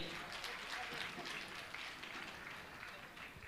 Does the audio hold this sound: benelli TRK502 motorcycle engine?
no